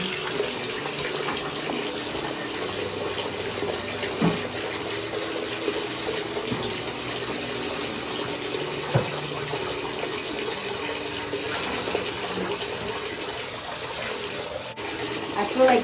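Shower water runs steadily while hair is rinsed of red dye, a continuous hiss and patter of spray on the hair and the basin, nearby and even throughout.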